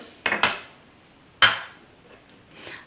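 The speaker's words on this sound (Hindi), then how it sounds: "अब मैं ये सारी चीज़ें इसके अंदर डाल रही हूँ" Whole garam masala spices dropped into a bowl give a few sharp clattering clinks, two close together and another a second later, then softer rustling, close by with no talk.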